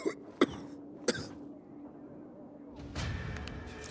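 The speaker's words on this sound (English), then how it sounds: "He's been coughing a lot lately." A game character in Dying Light 2 coughs in three sharp, separate bursts close up, followed by a rougher, noisier stretch of throat sounds at the end.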